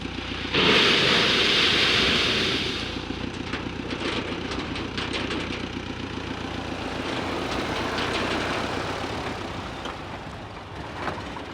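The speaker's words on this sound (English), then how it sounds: "so the harvester bin's going up on its hydraulics, and then the whole bin will tilt and send a load of walnuts into the trailer" Walnut harvester bin lifting on hydraulics in an orchard and tipping its load into a trailer, a steady engine and hydraulic drone with a loud rushing burst early on as the nuts pour out, then continued rumbling.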